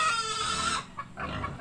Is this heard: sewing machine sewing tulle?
no